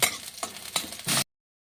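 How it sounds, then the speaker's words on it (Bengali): Dried red chillies and garlic hit hot oil in a wok for a tempering, giving a short burst of sharp crackling sizzle with a few spits before cutting off abruptly. "তেলটা গরম হয়ে গেছে আমি শুকনো লঙ্কা আর রসুনের ফোড়ন দিলাম"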